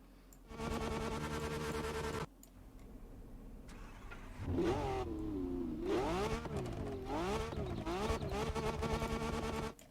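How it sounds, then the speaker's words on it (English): Car engines in the racing video game The Crew Motorfest start up, rev and idle, with sharp throttle blips and rising and falling revs through gear changes, loud and clean with no talk over them. "Engine sounds so much more improved. In fact, I'll play some here."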